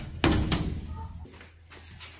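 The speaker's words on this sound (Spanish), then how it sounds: "Hay que cerrar la puerta para que ya no venga." An indoor house door is shut with a single close, solid thud, followed by a duller knock as it settles, while people talk faintly nearby.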